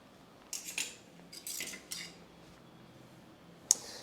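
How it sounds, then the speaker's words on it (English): Scissors snipping off a fiddle leaf fig leaf, a few short crisp cuts and rustles close by, followed by quiet and one small sharp click, with no talk. "I will also cut the leaf off just below it just to create a little bit of extra space"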